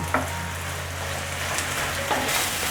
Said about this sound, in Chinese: 我放了3汤匙的香菇水，继续翻炒